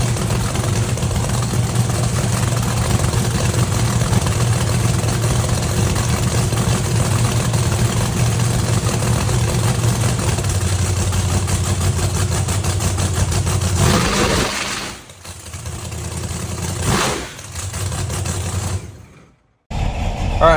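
A 2500 HP V8 with a freshly swapped intake runs at a loud, steady idle close by, then cuts out and coughs through a couple of short bursts before falling nearly silent.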